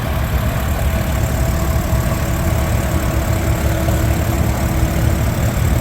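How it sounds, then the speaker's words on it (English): A 1953 Farmall Super C tractor idles at a steam power show in Sycamore, Illinois, its engine giving a loud, steady, low rumbling chug that holds evenly throughout, close by and without talk. "Here we have a Farmall Super C. It's a 1953."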